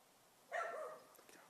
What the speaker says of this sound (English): The dogs. The dogs.